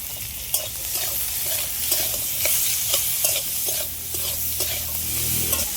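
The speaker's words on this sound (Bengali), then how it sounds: "শসাটা একটু হালকা করে ভেজে নিয়েছি" Cucumber pieces fry in spiced, tempered oil with turmeric and salt. A loud, continuous sizzle fills the sound, with repeated close spatula scrapes against the pan and no voices.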